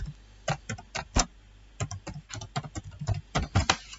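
A chart title being typed on a computer keyboard: quick, uneven clusters of close key clicks and taps over a few seconds, with no voices.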